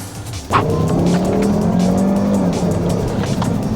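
A Volvo V40 Cross Country T5 AWD engine roars up close as the car accelerates hard, with tire squeal layered over the steady, loud mechanical drone.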